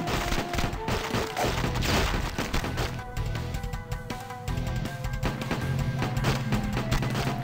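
Rapid gunfire in the video game Age of Zombies, set in Japan, with dense bursts of shots, impacts and crashes layered over game music, loud and continuous throughout.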